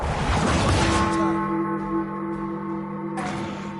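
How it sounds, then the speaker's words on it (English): A single bell struck once in the Marvel Midnight Suns video game, a bright metallic clang followed by a long sustained ringing tone that slowly fades, alone with no voices. "Let's ring the Small Bell."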